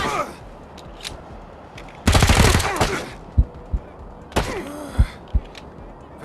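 Bursts of rapid gunfire in Wasteland 3 combat, loud and close, followed by several separate sharp shots and thuds spaced over the following seconds.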